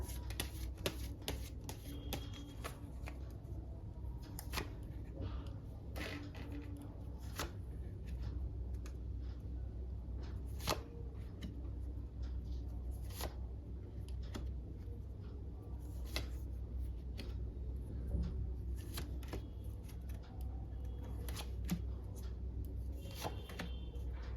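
Tarot cards shuffled by hand over a long stretch, a rapid run of light papery flicks and riffles in irregular bursts over a low steady background hum, close and fairly quiet.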